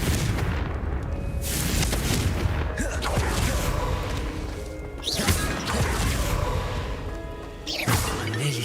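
A vase shattering under a Confringo blast in Hogwarts Legacy: repeated crashing, booming impacts over a dense game soundscape, several loud hits spread across the stretch.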